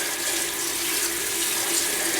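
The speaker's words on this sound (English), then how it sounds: "this is a turkey neck. Give it a nice wash." Turkey neck rinsed under a running kitchen tap, a steady close hiss of splashing water with no pauses, no talk.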